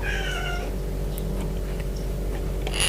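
A cat meows once, a clear drawn-out cry at the start, close and fairly loud over a steady low hum of background noise.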